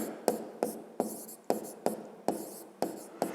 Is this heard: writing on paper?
yes